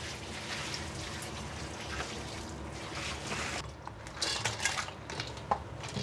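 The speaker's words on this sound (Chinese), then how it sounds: "我哋將啲滾水淋落去聖子嘅上邊" Boiling water poured over razor clams in a colander, a steady splashing hiss with light clinks of shells and metal, softening briefly before a few sharper splashes near the end.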